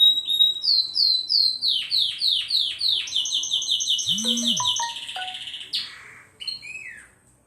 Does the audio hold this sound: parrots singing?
yes